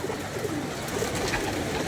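Pigeons at a rooftop loft coo in a low, steady murmur, several birds overlapping at moderate distance with no voices.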